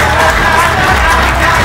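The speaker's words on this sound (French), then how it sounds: "un tonnerre d'applaudissements" A crowd at a business event breaks into a dense, loud roar of applause mixed with cheering, continuous and even across the moment.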